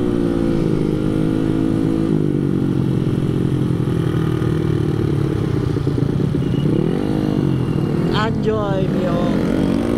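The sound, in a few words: Mio motorcycle engine running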